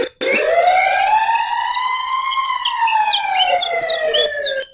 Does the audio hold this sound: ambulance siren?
yes